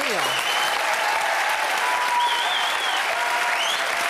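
A TV studio audience on a French variety show claps loudly and steadily for a man called up to the microphone, a dense sustained roar of hands with brief voices drifting over it.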